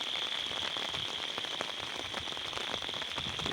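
Heavy village rain falling hard and steadily, a dense close patter of drops on surfaces that holds without a break, with no voices heard.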